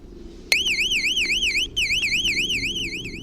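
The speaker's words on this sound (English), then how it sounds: "He triggers the alarm and it sends the men fleeing." A loud electronic house burglar alarm suddenly starts wailing, a rapid warbling siren tone that cuts out briefly and resumes, repeating insistently.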